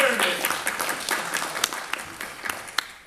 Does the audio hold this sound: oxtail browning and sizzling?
no